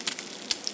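Empanadas frying in hot oil at an eatery in Quito, Ecuador, a faint steady sizzle with a few sharper crackles and pops over a short moment.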